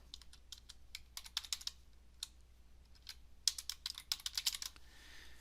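Fingers type on a computer keyboard in quick, irregular bursts of crisp clicks, with short pauses between groups of keystrokes, close and clear in a quiet room with no voices.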